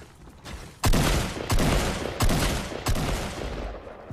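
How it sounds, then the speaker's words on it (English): Six-shooter revolver fire in Fortnite: a faint early shot, then four loud, sharp reports spaced about two-thirds of a second apart, each trailing off in a ringing decay, with no talking. "He went with the six shooter."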